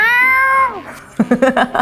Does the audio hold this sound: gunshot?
no